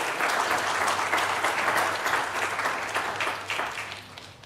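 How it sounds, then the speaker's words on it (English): Sustained applause from a crowd at a veteran and small business trade show summit, dense steady clapping for musicians that gradually fades toward the end. "please, another round of applause for our fantastic musicians"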